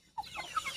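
Roosters, hens and guinea fowl cluck close by on a sunny farm after being let out, short sharp calls and clucks overlapping in a brief burst.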